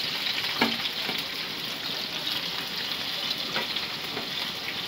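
Prawns sizzling in a pan of oil with crushed seeds and chili, a dense steady crackle that fills the whole stretch with a few faint clicks of a spoon.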